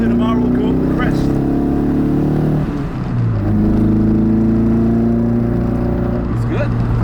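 The rotary engine of a Mazda RX7 FC Rocketbunny drones on a shakedown drive, its steady buzzing hum dipping briefly as it shifts and then rising again, loud throughout.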